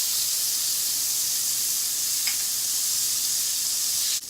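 Butter and olive oil sizzle in a hot pan, a close, loud, even hiss that holds steady with one faint tick partway through, then drops away at the end.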